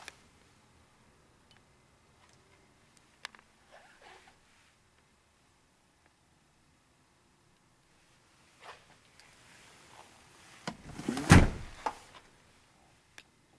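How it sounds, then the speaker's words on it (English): Powered rear sliding door on a 2017 Chrysler Pacifica Touring L minivan runs in one brief, loud mechanical burst near the end, after a long stretch of near silence with a few faint clicks. "We have a powered sliding door."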